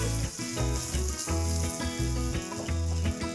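Rice and mixed vegetables (cauliflower florets, peas, carrot, green beans) sizzle and fry in hot oil for tomato masala rice, a steady loud crackling hiss with rhythmic stirring pulses throughout.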